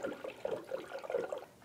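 A 50-50 coolant mix pours and gurgles into a 2011-2018 Ram 1500, a steady liquid glug with pulsing bursts, close and alone.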